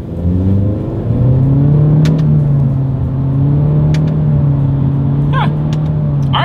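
A 2024 Acura Integra with a CVT accelerating in first gear, a loud steady engine drone that holds nearly one pitch while rising slightly, recorded from inside the car with brief faint chirps near the end.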